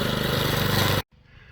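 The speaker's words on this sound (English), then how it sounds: "so it's like a regular handheld trimmer that you would use on edging and stuff, just on steroids." A large handheld brush trimmer mows down grass, its engine droning loud and close at a steady pitch before cutting out abruptly and dropping to a low idle.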